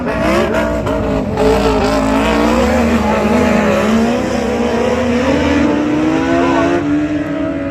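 Speedway motorcycles race down the back straight on opening night, their engines a loud, continuous, close, high-revving drone with wavering pitch as they sweep past.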